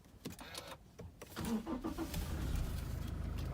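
A Toyota Kijang Innova is started with its push button: a few faint clicks come first, then the starter whirs and the engine catches and settles into a steady, close idle.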